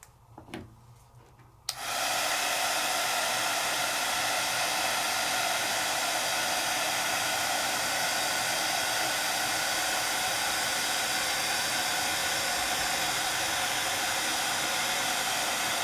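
Heat tool melting embossing powder on a paper craft, switching on abruptly after a quiet moment with a few small handling clicks, then a loud, steady hiss of blowing air that continues unbroken.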